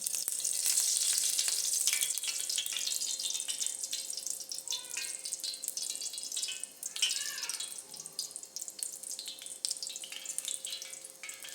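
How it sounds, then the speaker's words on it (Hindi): Oil heats in a pan on the stove before chicken stick kababs are cooked, giving a steady, moderately loud crackling sizzle throughout with scattered pops and no talk. "ऑयल हमारा गरम हो रहा है"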